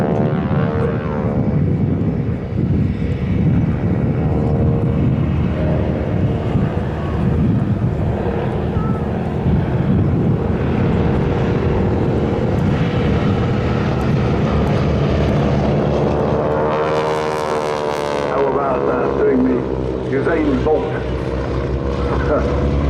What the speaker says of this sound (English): you hear the rasp from the propeller tips